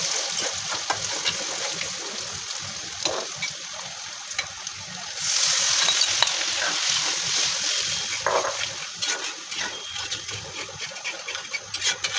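Snake gourd frying in leftover oil in a home kitchen wok, a steady sizzle and hiss with splatter that grows louder midway, continuing evenly to the end.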